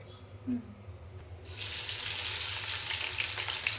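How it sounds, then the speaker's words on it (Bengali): Onions drop into hot mustard oil and erupt into a loud, dense sizzle after a quieter start, then keep frying steadily close by. "সরিষার তেলের ভিতরে পেঁয়াজ দিলে ভুবড়ি উঠে একদম"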